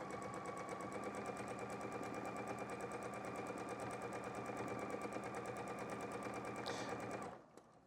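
Home sewing machine stitching back-and-forth figure-eight quilting, a fast steady needle chatter running continuously and close for about seven seconds before stopping abruptly.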